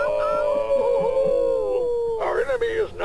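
A voice imitates a dog's howl, drawing out a long, wavering tone before a second rougher, yelping howl, loud and close.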